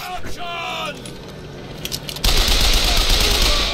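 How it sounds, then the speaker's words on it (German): Machine gun fire in the video game BioShock Infinite: rapid bursts of gunshots that swell into a loud, sustained fusillade, with game ambience underneath. "Maschinengewehr."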